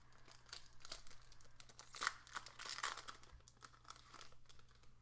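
A 2016 Donruss Optic football card pack is torn open by hand at close range, with quiet, uneven crinkling of foil and several sharp tearing bursts.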